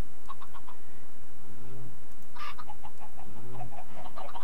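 Baby chickens cluck in the Minecraft modpack FTB Ultimate, two short chirpy clucking calls a couple of seconds apart over a low background hiss, with faint clicks between.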